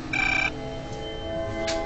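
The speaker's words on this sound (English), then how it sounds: "Will somebody answer the phone?" A telephone rings once in a short electronic burst lasting about half a second. A faint, low steady tone continues afterward, and no one speaks.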